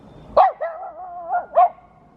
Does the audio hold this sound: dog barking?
yes